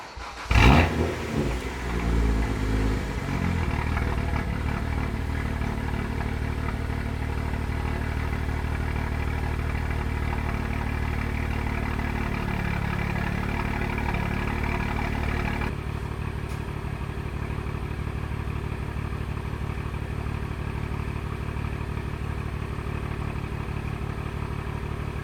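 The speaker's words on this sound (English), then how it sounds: "let me turn this car on, hit the brake light a couple times" A BMW 135i starts with a sharp burst, then settles into a steady, fairly loud idle that hums on evenly for about twenty-five seconds, dropping slightly in level partway through.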